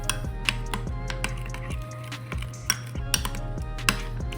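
A utensil clinks and scrapes against a bowl while homemade tartar sauce with squeezed lemon is mixed, in irregular sharp taps over a low steady hum, close and alone.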